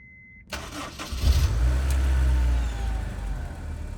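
A Honda S2000 cranks and catches, its engine firing up after a short burst of starter noise and settling into a steady, rumbling idle close by.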